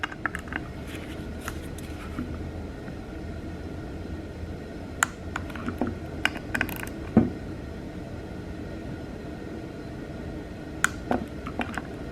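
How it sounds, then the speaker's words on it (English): A torque wrench set to 55 inch-pounds tightens 68RFE transmission valve body bolts, giving faint scattered clicks and small mechanical creaks over a quiet workshop background. "now I'm going to go through here and torque all of these. Gotta set my torque wrench to 55 inch-pounds."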